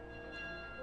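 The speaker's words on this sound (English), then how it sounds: "Stop the bell! We don't want to hear it!" A bell rings in the video game Skyward Sword, a sustained, faint metallic tone with layered ringing overtones, heard alone for under a second.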